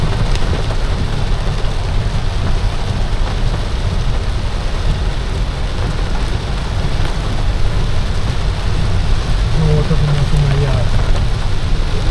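Heavy rain pours down steadily and loudly in Grenada, a dense constant hiss with a low rumble underneath, unbroken throughout.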